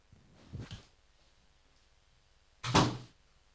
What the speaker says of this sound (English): Hold on, I'm going to close the door.